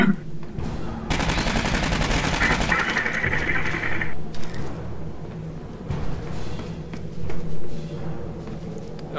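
Rapid rattling turret gunfire in the game Aliens Colonial Marines, a dense burst lasting several seconds, followed by scattered quieter game noises and thumps.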